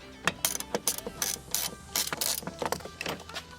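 A ratchet wrench loosens a 10 mm bolt on a Cadillac passenger-side door panel, with rapid bursts of close, crisp clicking in irregular groups.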